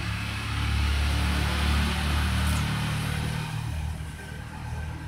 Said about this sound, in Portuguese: tive que pausar muito barulho aqui de carro